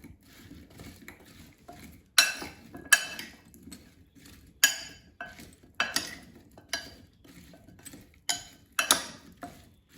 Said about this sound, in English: So now let's toss the potatoes with oil and seasonings.